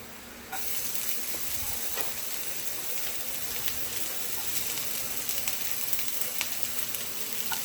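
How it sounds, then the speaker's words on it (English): Garlic and green onions fry in a pan for shrimp fried rice, a soft even crackling sizzle with scattered sharp pops, fairly quiet and close with no voices. "The garlic, we're gonna fry it a little bit, and then we're gonna add the green onions."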